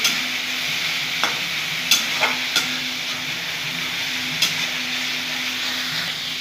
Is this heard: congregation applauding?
no